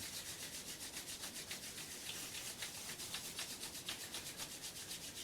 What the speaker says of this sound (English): Then join the palms and rub together vigorously until they begin to feel warm.